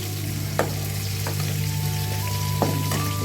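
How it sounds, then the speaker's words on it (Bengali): Milk heats in a pan for sago payesh, giving a steady low sizzling, bubbling simmer with a few soft clinks of a utensil against the pan, close and continuous with no talk. "এখানে এই যে দুধ ফুটতে দিয়ে দিয়েছি"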